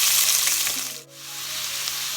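Curry leaves sizzle in hot oil in a home kitchen, a loud, steady close-up frying hiss that dips briefly before carrying on.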